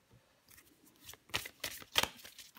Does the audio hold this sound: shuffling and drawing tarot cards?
yes